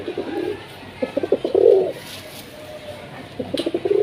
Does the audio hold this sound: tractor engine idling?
no